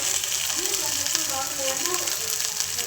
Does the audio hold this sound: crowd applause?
no